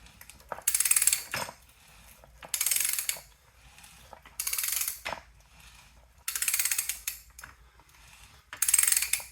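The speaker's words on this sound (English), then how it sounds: "So right now I've got about 6 threads onto that pipe." A Ridgid 65-R ratcheting pipe threader cuts threads onto a pipe in five evenly spaced bursts of metallic ratcheting clicks, each about a second long, with quiet pauses between strokes.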